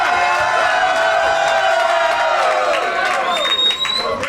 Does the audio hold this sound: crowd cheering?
yes